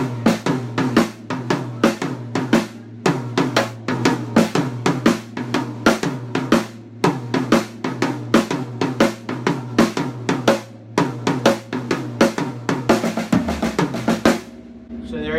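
Drum toms struck by hand in a slow sixteenth-note pattern, giving a steady stream of close, evenly spaced thumps with a slight swing, heard alone without talking and ending with a brief break.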